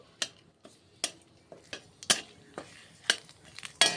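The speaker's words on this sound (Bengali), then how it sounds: "দিয়ে দিলাম দুটো এলাচ দানা আর একটা তেজপাতা মাঝখান দিয়ে কেটে আমি তেজপাতাটা দিয়ে দিচ্ছি। দিয়ে নাড়িয়ে নেব একটু।" Cardamom pods and a halved bay leaf being stirred in a pan with ghee, a string of soft scraping strokes and light clinks of a utensil against metal, fairly quiet with no voices.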